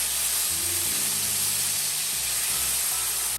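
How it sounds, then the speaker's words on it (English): Cheap red wine hitting a hot pan to deglaze it for fajitas, giving a loud, steady, broadband hiss of steam and sizzle that lasts the whole few seconds, with a low bubbling rumble underneath. "we're gonna drown it with the cheapest red wine you could get your hands on to deglaze the pan"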